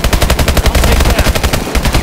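Automatic gunfire in the Exo Zombies video game, a loud rapid stream of evenly spaced shots hammering continuously for two seconds with no talk.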